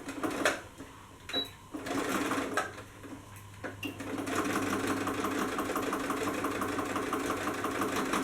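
A sewing machine runs a straight stitch across a small pocket piece, starting with short bursts and then settling into a steady, continuous whir.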